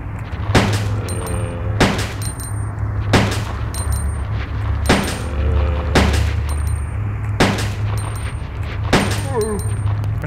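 Gunshots in the video game Resident Evil 2 (PS1, emulated on Android): about eight loud, sharp shots at a regular pace, roughly one every second or two, over a low steady hum.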